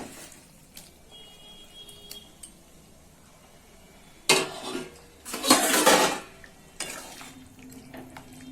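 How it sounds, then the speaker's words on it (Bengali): Fried potato, eggplant and fish tipped into a simmering curry pot, heard as a few loud clattering bursts of pot and utensil contact with splashing liquid, separated by quiet gaps. "এবার আমি ভেজে রাখা এই আলু আর বেগুন আর এই মাছটা দিয়ে দেবো"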